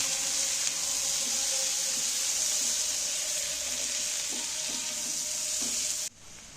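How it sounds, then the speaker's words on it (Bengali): Salted onions frying in oil while being stirred, a dense continuous sizzle with occasional scraping strokes, close and steady until it cuts off abruptly near the end. "পেঁয়াজগুলোকে আমি তেলের মধ্যে নাড়াচাড়া করে ভেজে নেব"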